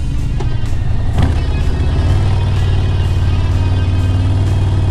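A bus engine passes close by with a steady, loud low rumble and mid-range drone, and a brief thump near the start.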